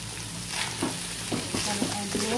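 Fish sizzles and fries in a pan with bitter melon, a steady hissing crackle broken by occasional stirring scrapes, close and continuous with no talking.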